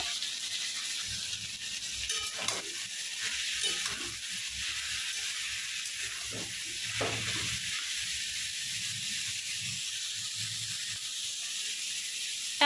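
Radish and other vegetables fry in a pan with a continuous bright hiss and sizzle. Soft stirring scrapes and occasional clatter sit close beneath it.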